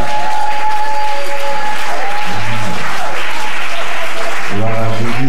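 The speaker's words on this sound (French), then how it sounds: "Acclamer très fort le Seigneur." A church congregation claps and cheers loudly and steadily throughout, a dense wash of applause with voices rising over it and a few sung or shouted tones.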